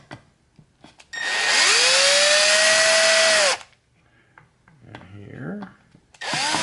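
A power drill removes screws from a Traxxas Slash VXL RC truck chassis, with one long close whir that winds down, then a shorter burst after a pause, and someone speaking briefly between them.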